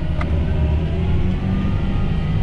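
Older John Deere tractor from around 2007-2008 with an AutoPower transmission, its engine running steadily with a loud, continuous low rumble throughout, no talk present.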